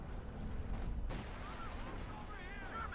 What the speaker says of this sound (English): Artillery called in.